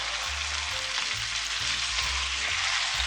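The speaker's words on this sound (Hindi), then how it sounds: "मीडियम आंच पे मैं इसको फ्राई करूँगी।" Spices for an Azerbaijani-style parda pulao fry in oil over medium heat, a constant bright sizzle punctuated by soft, repeated low thuds from stirring, with no one talking.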